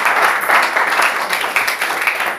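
A church congregation applauds together for the Lord at a French-language worship service, a dense, steady wash of clapping at fairly close range with no talk over it.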